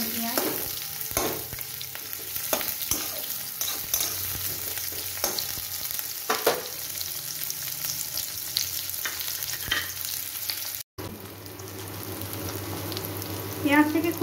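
Onions deep frying in a wok with hot oil, dry chillies and bay leaves. A steady, close sizzle runs throughout, broken by repeated stirring scrapes, a brief cut and faint crackles near the end. No one speaks.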